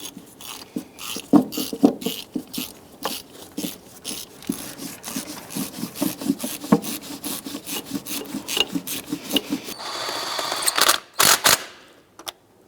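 Ratchet tightening power steering pump bolts on a 2005-2009 Subaru Outback, a close run of quick rhythmic clicks in bursts, loud and alone with no talking, ending in a few sharper knocks.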